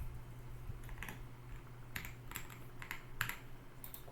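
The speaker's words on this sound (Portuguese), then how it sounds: "Vou digitar outra placa." Someone types a license plate into a parking management app on a computer keyboard, giving scattered clusters of close, crisp keystrokes over a steady low hum, with no talk.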